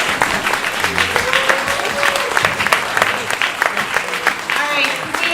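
Political forum audience in Princeton, New Jersey applauding loudly and steadily, dense continuous clapping with crowd noise throughout.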